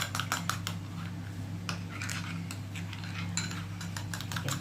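Egg mixture with a little cornflour is beaten in a bowl for a paneer recipe, producing quick, light clinking taps of utensil against the bowl in irregular bursts over a low steady hum.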